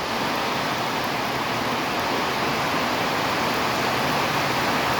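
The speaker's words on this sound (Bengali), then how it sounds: "হায় রে বৃষ্টি রে, আবার এই যে আসতেছে জোরে।" Heavy rain pours down in Saudi Arabia, a dense, even roar of broadband noise that stays loud and unbroken with no voices.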